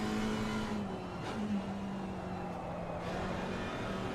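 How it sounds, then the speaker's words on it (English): An Aston Martin GT4 in a racing video game at Laguna Seca, its engine droning steadily with shifts in pitch as it slows under braking, close and continuous. No one talks. "You can hear the Aston Martin braking behind"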